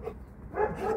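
A dog gives a couple of soft barks during a game of fetch with a ball indoors, faint and set against quiet room noise, with no talking.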